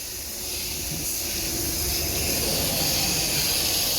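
A strong water spray rinses blue and purple chemical cleaner off an AC coil, giving a steady close hiss that swells slightly after the start and holds for a few seconds, with no talking.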